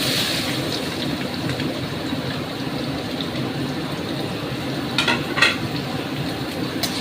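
Sliced bottle gourd coated in salt and turmeric fries in a pan with a soft, steady sizzle, broken near the end by a few sharp clatters of a utensil against the pan.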